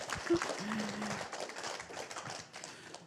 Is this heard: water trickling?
no